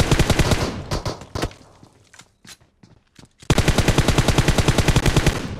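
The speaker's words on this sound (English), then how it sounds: "Especially if they hear that pistol sound." Loud, sharp pistol shots in PUBG Mobile come first as scattered bursts, then a short lull with a few isolated cracks, followed by a fast, continuous string of rapid shots to the end.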